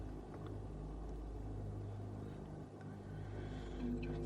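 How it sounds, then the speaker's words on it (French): A car engine rumbles steadily at low pitch near a gray cargo ship in a port, holding an even idle-like drone that swells slightly louder at the very end. "C'est la voiture d'Hélène."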